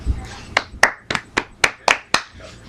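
Seven or eight distinct hand claps in a slow, slightly uneven rhythm, close and crisp, with no voices.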